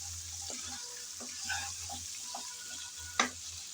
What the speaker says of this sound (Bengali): কাঁচামরিচ আর পেঁয়াজ দেওয়ার পর আবারও নেড়েচেড়ে ভালোভাবে ভেজে নেব।